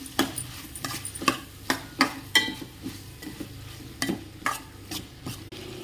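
Spoon stirring salt, ginger garlic paste and masala powder in a pan for a dry prawn, egg and okra curry, a steady run of close scraping strokes over a low sizzle, with no talk.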